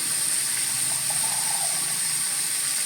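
Water being poured into a pan of raw jackfruit curry with grated fresh coconut, a steady soft hissing gush of liquid running continuously at moderate level with no talk.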